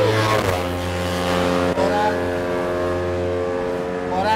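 Engines of Honda CBR motorcycles on a race track, a loud, steady, buzzing drone with a strong pitch that rises slightly as they rev, heard alone without speech.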